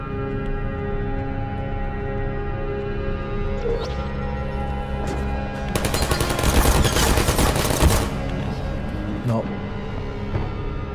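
Automated sentry turrets firing in the video game Portal, a dense burst of rapid gunfire rising over a steady game soundtrack in the middle, then tapering off.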